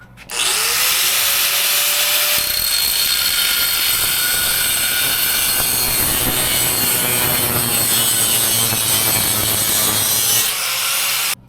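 An angle grinder runs loudly and continuously on an engine rotating assembly for a Dodge Ram turbo LQ4 swap, giving a steady harsh whine with shifting pitch as it bites into the metal. It spins up at the start and winds down at the end.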